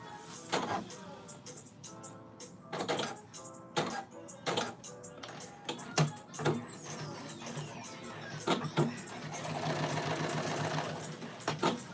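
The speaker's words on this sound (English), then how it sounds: "I feel like I need a walking foot on with this fabric." A loud sewing machine runs in short bursts and then a longer continuous run as it stitches a trouser seam through fabric, its motor whirring and rattling close by.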